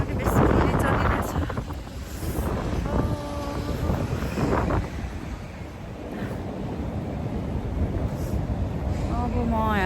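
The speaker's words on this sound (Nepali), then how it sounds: "हावा पनि बेसी पनि चलिरहेछ" Strong wind blowing on an open hilltop at sunset, buffeting loudly and continuously against the microphone, with rumbling gusts and a voice speaking intermittently over it.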